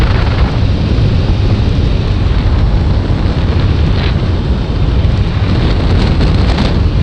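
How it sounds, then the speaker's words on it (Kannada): Heavy rain pours steadily at Anjanadri hill, a dense, loud, unbroken hiss with no voices. "ಇಲ್ಲೇ ಮಳೆ ಸ್ವಲ್ಪ ಜೋರಾತ್ರಿ"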